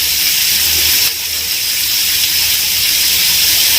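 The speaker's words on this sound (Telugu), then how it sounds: "ఇప్పుడు పచ్చిమిరపకాయలు వేస్తానండి నేను." Green chillies, cut into pieces, frying in hot oil in a pan while making a sweet corn paneer sandwich filling, a steady loud bright sizzle and hiss that fills the whole clip without pause.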